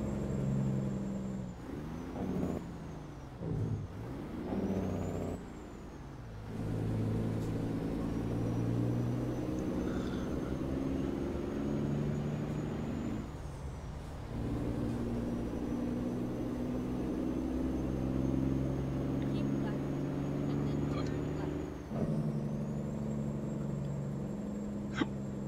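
A Kenworth W900 truck engine rumbles steadily at close range, a deep sustained drone with a few brief high squeaks and shifts partway through, with no talking over it.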